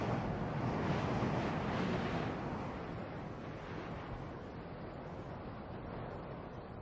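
Wind sweeps across the Atacama desert, a broad, soft rushing that is strongest at first and then eases into a steady, fainter hiss, with no other sounds.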